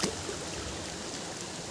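A natural stream rushes and gurgles in a continuous, steady wash of water, close and fairly loud with no voices.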